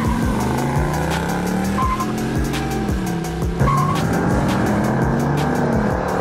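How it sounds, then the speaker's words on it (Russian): A BMW 540i spins its wheels at a synchronized race start against two Mercedes E500s, tires squealing loudly over revving engines, with sharp gear-change drops and repeated rising pitch sweeps, close and intense. "Буксовка, конечно, на BMW"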